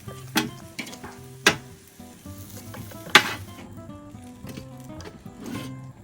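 Lamb chops sizzle on a Weber grill, a steady hiss and crackle underneath with a few sharp metallic clinks and taps from utensils.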